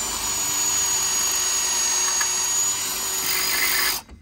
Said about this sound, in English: See if we can drill through her.